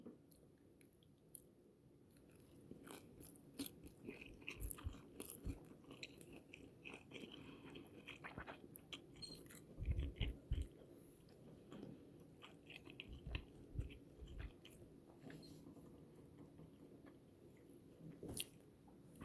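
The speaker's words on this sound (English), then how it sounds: "I'll take a nice big crunchy bite for y'all to hear." Close, quiet chewing of meat with soft, moist bites and occasional crunchy crackles, repeating steadily with no talking.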